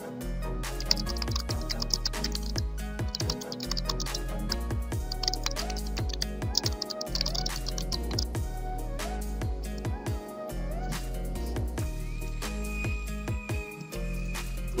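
Computer keyboard keys clatter in quick, uneven bursts of typing as questions are entered for a classroom exam, close and clear over a steady musical background, with no talking.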